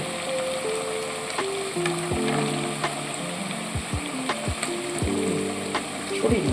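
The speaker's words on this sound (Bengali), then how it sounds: "কালকে ভেজে রাখা পকোড়াগুলো আমি দিয়ে দেবো এই তেলের মধ্যে" Already-fried pakoras tossed in hot oil with tomato sauce, giving a steady sizzle broken by repeated scraping and clattering strokes of a spoon against the pan, close and moderately loud.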